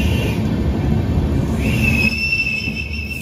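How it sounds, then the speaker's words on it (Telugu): A train rolls through a tunnel cut into a cave near Dudhsagar in Goa, a loud steady rumble of wheels on rails with high metallic squeals rising over it. "ట్రైన్ అయితే మూవ్ అవుతుంది."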